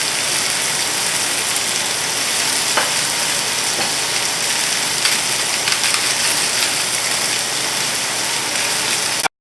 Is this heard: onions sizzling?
yes